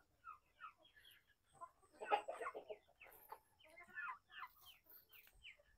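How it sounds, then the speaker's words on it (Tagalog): Hens in a coop cluck and cackle in soft, irregular bursts while laying eggs, several birds calling at moderate distance without any talk. "maraming nangingitlog sa ating mga manok"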